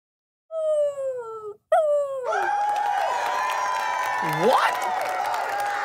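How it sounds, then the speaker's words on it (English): A dog gives two drawn-out, falling howling whines, then a loud crowd breaks into sustained cheering as the dog keeps yelping over it, staged as a campaign speech in a children's church skit. "He just barks."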